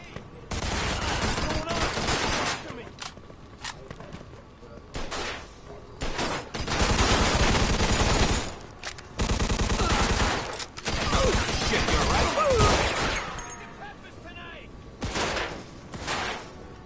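Bursts of video game gunfire, rapid crackling volleys and machine-gun rattles in repeated loud clusters separated by short quieter gaps, with a voice talking in between.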